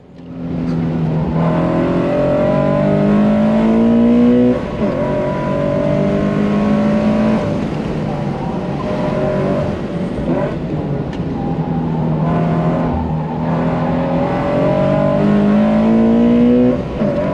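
A race car driven hard around the Pineview Run track from an onboard position, engine loud and close throughout, rising and falling in steady pitch sweeps as the driver works the throttle hard through gears and corners.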